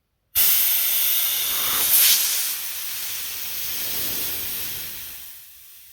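Compressed air hisses loudly into a John Deere oil pressure gauge, starting abruptly, swelling briefly, then settling into a steady rush that tapers off near the end.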